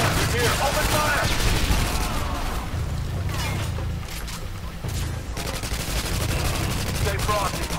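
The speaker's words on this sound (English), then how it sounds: "Open fire!" Continuous automatic gunfire and explosions fill a Call of Duty: Modern Warfare 2 campaign battle, dense and loud throughout with rapid bursts, booms and mechanical clatter, while voices shout over the din.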